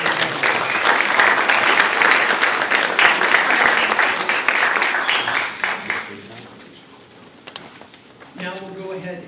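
Audience applause at a live-streamed meeting, dense and loud for about six seconds, then tapering to a few scattered claps with faint talk beneath.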